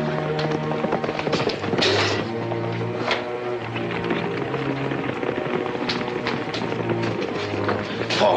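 Four horses gallop across a 1951 Western soundtrack, a dense rolling patter of hoofbeats with sharp cracks mixed into music and action noise, loud and continuous throughout.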